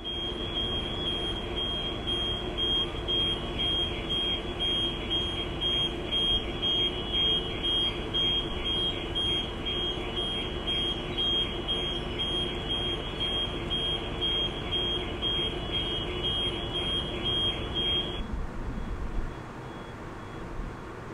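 Several car alarms on a ferry leaving Belfast harbour blare steady electronic tones over a constant low engine rumble, continuing for most of the span before cutting off near the end.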